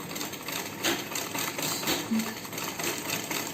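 A vintage Butterfly sewing machine stitching steadily, a close, continuous mechanical whir with a rapid needle rhythm and no voices.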